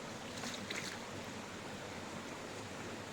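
Water from a forest stream rushes over rocks along a rocky canal on a nature walk, producing a steady, even, broadband wash of flowing water with no voices.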